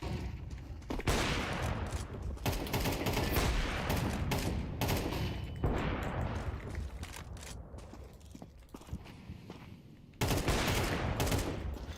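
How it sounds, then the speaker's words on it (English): Dense gunfire fills a Counter-Strike match, a loud, near, nearly continuous crackle of rapid shots that drops briefly to a lighter patter before surging again, with no speech over it. "Deploying flashbang."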